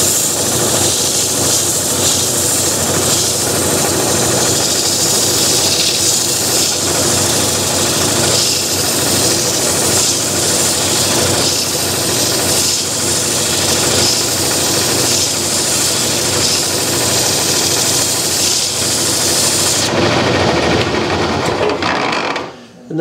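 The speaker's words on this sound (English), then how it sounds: "Gives you a way to hold the sandpaper and do a fairly good job inside." Sandpaper in a handmade holder rubs against the inside of a wooden bowl, giving a steady, close abrasive hiss that runs continuously for about twenty seconds and then stops.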